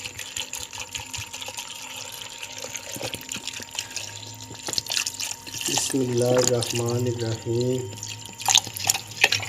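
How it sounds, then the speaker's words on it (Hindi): Water is poured into a jug of cut peaches, a trickling splash under a voice speaking in Hindi, with some clinking near the start. "अब हम इसमें पानी ऐड करेंगे"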